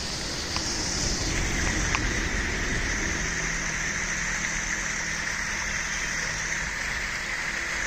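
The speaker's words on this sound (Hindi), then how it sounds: "झरना बह रहा है और ये झरना बहता हुआ जा रहा है दूसरे झरने की तरफ" A mountain waterfall flows steadily nearby on a roadside stop toward Nainital, a constant broad rushing hiss of falling water that stays even throughout, with no talking.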